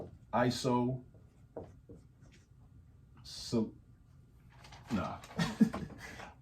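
Marker or chalk strokes on a board during a geometry lesson on isosceles and special right triangles, with short scratchy writing bursts between and beneath a nearby speaking voice.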